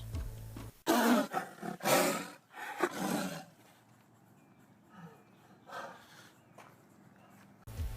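A South China tiger gives several deep, rough roars in a row, loud and close at first, then fading to quieter rumbling breaths.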